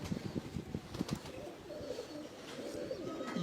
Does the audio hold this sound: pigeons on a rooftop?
yes